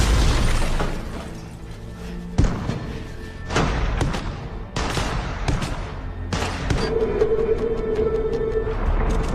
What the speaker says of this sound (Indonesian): terdengar suara mobil oleng yang menabrak kaca gedung. Dan kemudian terdengar juga suara baku tembak-tembakan.